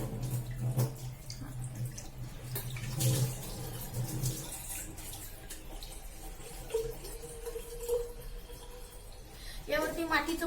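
Bottled Bisleri water is poured into a clay pot, a steady running splash under a person talking, trailing off into softer trickles.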